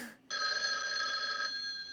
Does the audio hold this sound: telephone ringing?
yes